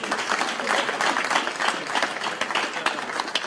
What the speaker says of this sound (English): Clap for Brett.